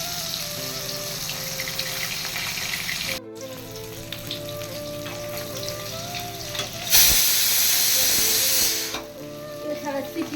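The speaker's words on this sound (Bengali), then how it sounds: "নতুন আলু তো প্রেশারে একটু সিটি দিয়ে নিয়ে নিলে ভালো হয়" A pressure cooker with new potatoes lets out a loud, steady hiss of steam for a couple of seconds amid kitchen sizzling and fish frying, while someone talks throughout.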